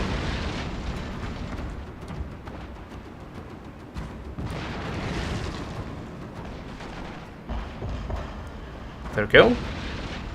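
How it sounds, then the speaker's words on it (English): Artillery firing explosive shells in the Total War game Fall of the Samurai, with deep booming blasts rolling under battle noise while someone talks over them, followed by a sharp crack near the end. "Fast reload and explosive shell."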